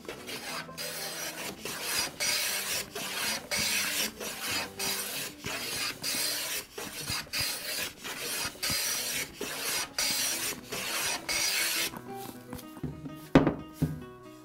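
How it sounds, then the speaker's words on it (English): A hand plane shaves a plank of cedrela odorata, smelly cedar, clamped in a vise for a guitar neck, with a steady rhythm of close, rasping strokes and a few knocks at the end, no talk. "So I'm going to start by planing"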